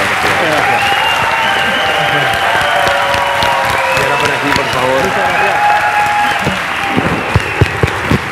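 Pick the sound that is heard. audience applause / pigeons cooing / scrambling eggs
audience applause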